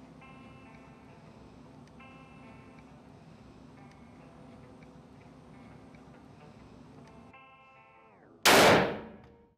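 A single loud gunshot from an Old West firearm cracks out on a shooting range after a stretch of faint background noise, its report trailing off with a short echo.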